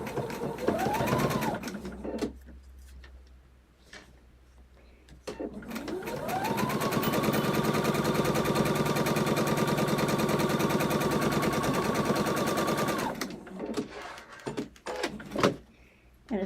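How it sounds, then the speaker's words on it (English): A domestic sewing machine stitches fabric for a quilt block, running in a steady sustained whir for several seconds after a short start, with brief quieter stops and handling sounds around it. "showing you the sewing machine, because it's just basically pretty much just sewing."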